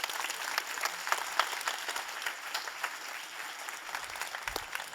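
An audience at a conference presentation applauds steadily for several seconds, a dense crackle of many hands clapping at moderate volume with no voices over it.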